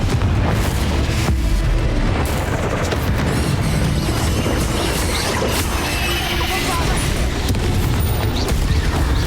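Fiery Confringo spell blasts in the video game Hogwarts Legacy, a loud, dense run of booming explosions and crashing impacts layered over continuous combat noise for the whole stretch, with no quiet gaps.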